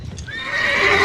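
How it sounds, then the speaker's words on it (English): A horse lets out a loud, close neigh that rises into a long, shrill whinny, heard on its own during a Christmas parade. "Nice horse."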